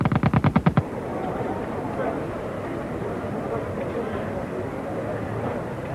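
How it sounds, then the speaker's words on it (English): Machine gun fire from the First World War era, a rapid burst of loud repeated shots lasting under a second at the start, then a rumbling noisy background with a voice talking. "Machine guns could now fire 600 rounds a minute."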